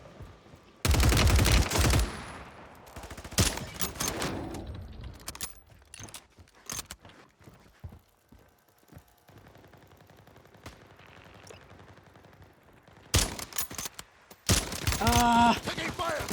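Gunfire in a video game shootout: loud bursts of rapid automatic fire at the start and end, with scattered single shots and cracks in between.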